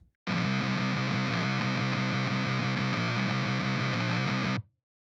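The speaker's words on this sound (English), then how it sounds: "let's bring up the fuzz and see what we can pull off" Electric guitar driven through a free fuzz distortion plugin, a thick, aggressive sustained riff that rings loud and steady for about four seconds before cutting off abruptly, with no talking over it.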